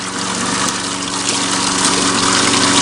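Water runs steadily from a pipe at a rural spot on the Banat plain, a loud continuous rushing gush with a pump-like hum beneath it, unbroken and close throughout with no voices.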